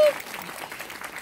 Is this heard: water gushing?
no